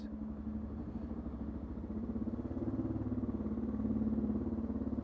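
A Suzuki DR650 motorcycle idles with a low, steady, pulsing exhaust thrum that swells slightly over a few seconds, heard alone without talk.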